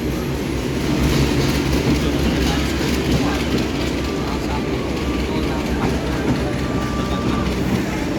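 An economy-class passenger train on the Jakarta Pasar Senen to Blitar route rumbles steadily along the rails, a constant low roar with no pauses, heard close by.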